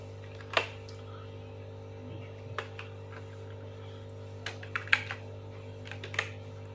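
Typing on a computer keyboard in MS Word produces scattered, soft key clicks with a few sharper taps, irregular and close, over a steady low electrical hum.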